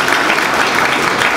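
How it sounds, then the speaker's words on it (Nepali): Dense, steady applause from a crowd at a royalist political rally, loud and continuous throughout with no distinct voices. "ताली बजाउनुस् उसको लागि।"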